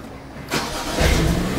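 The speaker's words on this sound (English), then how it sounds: "first things first, let's see if the car will turn on." A BMW E93 335i cranks and starts after a battery change, a sudden loud burst of starter and engine noise that settles into a close, steady idle with a low rumble, and no talking.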